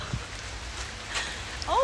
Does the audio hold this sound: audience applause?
no